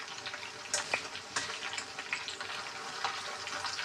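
Chicken green kabab fries in a pan with a soft, steady sizzle and a few light clinks of a spoon, close by and fairly quiet.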